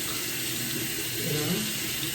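Water runs steadily from a shower while a face is rinsed, a continuous close hiss with soft splashing shifts and no talk.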